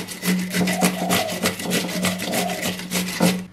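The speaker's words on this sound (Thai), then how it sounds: "มันฝรั่งแตงกวาก็ไม่ปอกเปลือกเหมือนกันนะคะ ก็ขูดไป" Unpeeled potato and cucumber rubbed against a kitchen grater in quick, even rasping strokes, close and fairly loud, keeping a steady rhythm with no talking.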